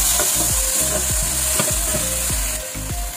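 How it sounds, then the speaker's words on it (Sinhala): Cauliflower rice with pepper sizzles and fries in a pan, a loud continuous crackle near at hand broken by regular scraping strokes of a spoon stirring it, with no one speaking. "මම මේක සුට්ටක්ලා තැම්බෙන්න දෙන්නම්."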